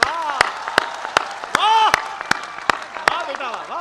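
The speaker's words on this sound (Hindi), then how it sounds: "बहुत तालियां भी बजाई" Scattered claps from an audience after a Hindi poetry recital, sounding as separate sharp hand claps at irregular intervals while a voice talks over them.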